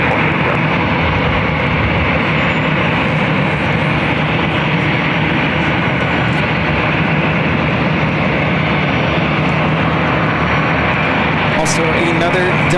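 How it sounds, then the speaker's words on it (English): A Delta A320 airliner takes off at LAX for Portland, producing a loud, unbroken engine roar that stays level throughout, with a voice speaking beneath the noise. "A Delta A320 will be taking off to Portland, flight 2457."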